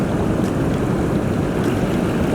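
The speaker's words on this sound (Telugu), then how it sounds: "వాటర్ ఫ్లో చాలా ఘోరంగా ఉంది, నెట్టుతుంది మనని" Strong river current rushing with a steady, dense roar that fills the whole clip, loud and close, with no voices over it.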